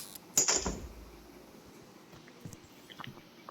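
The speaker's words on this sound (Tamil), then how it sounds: "போட்டுருங்க, கதவை போட்டுங்கடா." A door shutting in the horror game That's Not My Neighbor: one sharp, fairly loud slam with a brief rumbling tail, followed by quiet room tone and a few faint small clicks.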